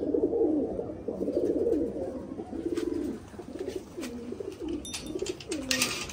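High-flying pigeons in a winter loft coo in rolling, pulsing phrases, several birds near and loud, with brief rustles and clicks toward the end.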